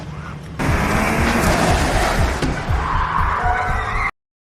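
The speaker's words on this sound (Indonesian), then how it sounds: "datang mobil dari arah lain yang nyaris menabrak" A car suddenly roars in and passes very close in a dramatic near-miss, a loud burst of engine and tyre noise after a quiet start, then cutting off abruptly.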